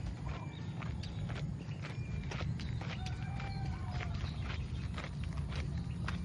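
Horse hooves clip-clopping on a road in the Philippine countryside, a steady close run of sharp knocks repeating in an even walking rhythm over a low background rumble, with no talk.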